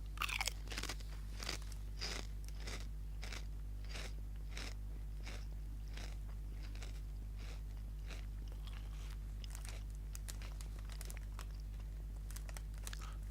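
Repeated crisp crunches of someone biting and chewing a hot wing flavored potato chip with southern style hot wing seasoning, close up and steady over a low background hum, with no talking.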